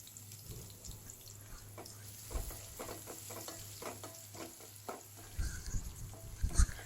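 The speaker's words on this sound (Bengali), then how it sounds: "এই তো পেঁয়াজ আর রসুনটা একটু ভালো করে ভেজে নিচ্ছি, একটু লালচে করে ভেজে নেব" Onion and garlic frying in oil with a bay leaf for dal tempering, a soft steady sizzle with occasional utensil scrapes and stirring clatter, close by, with no one talking.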